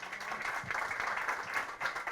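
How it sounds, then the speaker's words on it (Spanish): A room full of people applauds at the end of a panel discussion, a dense, steady patter of clapping heard from a distance. "Nos damos un aplauso para terminar."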